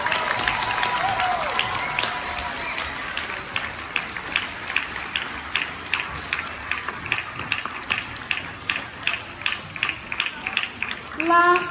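Audience applause at an Early Learning Centre end-of-year celebration: steady clapping from a crowd that thins into scattered, distinct claps near the end, with faint children's voices mixed in.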